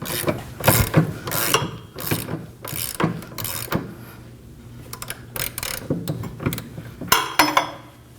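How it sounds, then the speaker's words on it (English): Ratchet fitted with a 19mm socket tightening a rear brake bolt on a Kia Optima, giving short runs of crisp clicking with pauses between strokes, close and alone. "we're gonna go ahead and grab our 19mm socket"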